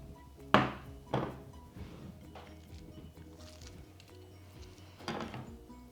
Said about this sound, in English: These are our finished nori rolls. All we need to do now is slice them